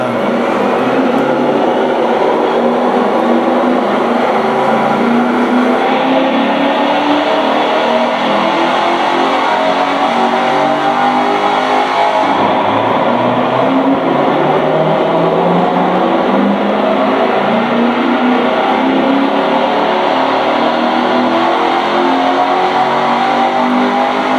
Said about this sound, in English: So I've just got a quick dyno run on this C7 Corvette, which is the brand new one.